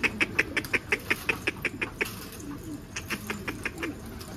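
Pigeons, newly bought birds in a loft, give a quick series of about a dozen close, sharp flutters or calls, a short lull, then another irregular run of softer bursts.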